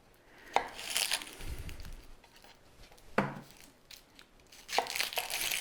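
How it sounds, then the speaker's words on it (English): A knife chopping a French rose onion on a cutting board: a few distinct, sharp cuts spaced about a second or two apart, close and fairly quiet, with soft crisp tearing between strokes. "let's get started cutting some veggies, starting with our onion"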